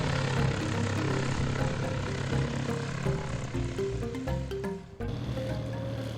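A small propeller airplane over the Nazca Lines in Peru drones steadily and loudly throughout, its engine note wavering slightly as it flies, close and continuous.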